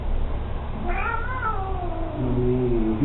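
A pet cat named Lissu gives one drawn-out meow that glides down in pitch and then ends in a lower, sustained second cry, heard close against steady background hiss with no talking.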